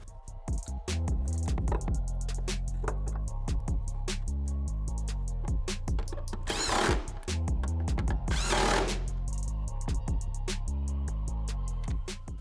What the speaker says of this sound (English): And bolt the shock back in.